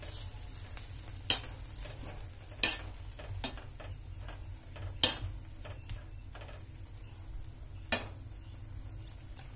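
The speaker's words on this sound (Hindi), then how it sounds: "इसको थोड़ा सा चला लीजिए।" Boiling Maggi noodles are stirred in a pot, with faint, scattered spoon taps and clicks against the metal over a low bubbling simmer. The sound is quiet and close, with no talking.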